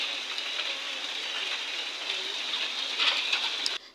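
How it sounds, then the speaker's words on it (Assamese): Light rain falling steadily outdoors, a soft even patter of drops on surfaces, close and continuous before cutting off abruptly. "আমাৰ এইফালে বৰষুণ দিছে।"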